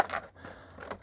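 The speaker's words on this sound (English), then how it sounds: "I'll go ahead and cut this open." Scissors cutting open action figure packaging, two or three short snipping and scraping strokes of plastic and cardboard, close and moderately loud.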